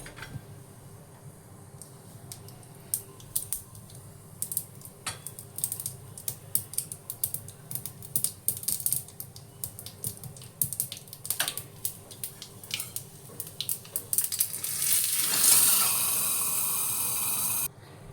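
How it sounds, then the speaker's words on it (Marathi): Mustard seeds and cumin hit hot oil for a tempering poured over chutney: sparse pops and crackles tick away irregularly, then a loud, hissing sizzle erupts and holds near the end. "तेल तापतंय, त्यात आपण राई आणि जिरं घालणार आहोत."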